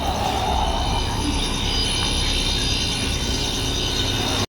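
A vacuum pump runs steadily while evacuating a window-type air conditioner, giving a continuous mechanical drone with a faint rattling texture that holds at an even level until it cuts off abruptly.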